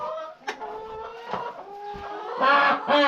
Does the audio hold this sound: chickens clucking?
yes